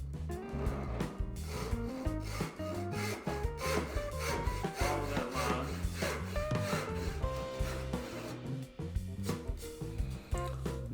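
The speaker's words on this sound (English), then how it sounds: "I'll start by pulling the saw just a hair." A hand saw cuts wood for dovetail joints with steady rasping back-and-forth strokes, close up and alone, each pull and push giving a rough, rhythmic scrape.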